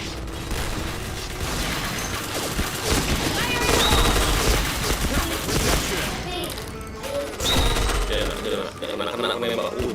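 Rapid gunfire from the PointBlank shooter game, bursts of shots layered over game mechanisms and booms, steady and loud throughout, with voices talking over it.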